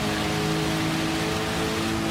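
Steady broadband rain hiss from a Gran Turismo 7 Group 2 race car run at Suzuka in the wet, with engine tones humming underneath, continuous and even throughout.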